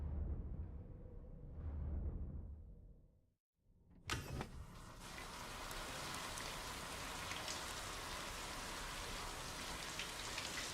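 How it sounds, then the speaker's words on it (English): Rain falls in the video game Death Stranding 2 as a steady, dense hiss that starts suddenly after a brief hush and keeps going evenly. "We're actually getting some of the rain they said we were gonna get."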